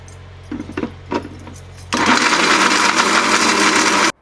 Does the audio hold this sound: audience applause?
no